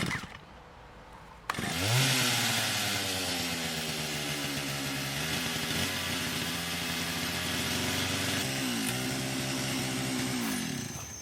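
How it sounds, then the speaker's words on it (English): A chainsaw starts abruptly after a quiet moment, then roars loudly and continuously, its engine pitch wavering up and down as it runs. "Chainsaw, here we come."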